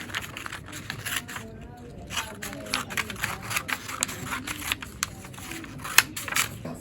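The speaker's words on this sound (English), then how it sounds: "you've got to get your scissors and cut a square." Scissors snip through a sheet of paper to cut a square, giving close, crisp clicks and crunches at an uneven pace over a faint room background.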